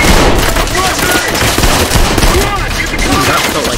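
Dense, loud rapid gunfire in the first-person shooter video game Trepang2, a continuous close clatter of shots lasting throughout with no clear pauses.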